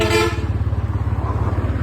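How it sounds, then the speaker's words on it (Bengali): A short vehicle horn blast on a busy, signal-less city road in Bangladesh sounds at the very start, then fades under a steady, pulsing motorcycle engine rumble close by. "আমাকে হর্ন দিচ্ছে"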